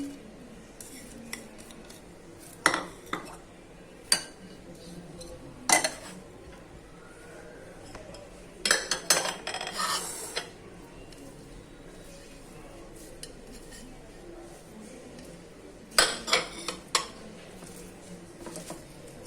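Chopped cabbage and onion being mixed in a bowl, a faint background punctuated by scattered bursts of utensil clinks and scraping against the dish, some clusters longer and busier than others.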